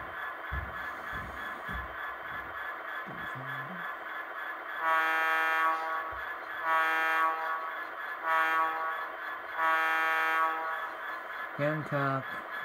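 Wabco two-chime train horn played back through a Tsunami 2 model railroad sound decoder, sounding four loud sustained blasts with short gaps and a quick final toot, preceded by faint background voices and clatter.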